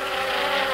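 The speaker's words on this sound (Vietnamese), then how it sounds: "Tiếp theo là một bầy ong." A swarm of bees buzzes in the Kick The Buddy video game, a brief, dense, continuous drone that is loud and close, with no voices.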